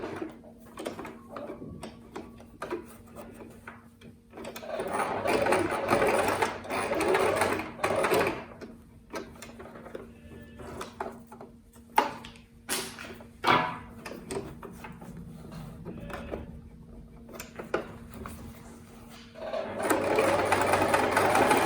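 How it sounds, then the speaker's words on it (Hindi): A domestic sewing machine stitches lace onto a palazzo hem in several stop-and-start runs of quiet, rapid needle chatter, with handling clicks and fabric shuffling between bursts. "इस साइड से सारी सिलने के बाद हमें अब इस साइड से सिलना है"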